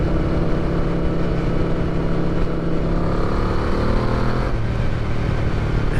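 A Yamaha VMAX muscle bike's engine accelerates with a deep, loud, continuous roar whose pitch rises and shifts, heard up close while riding with no talk.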